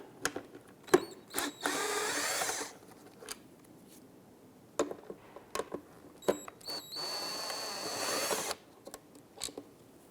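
Power tool removing two 7mm screws from the fog light of a 2010-2016 Cadillac SRX, two close whirring bursts of about a second each, separated by clicks and handling knocks.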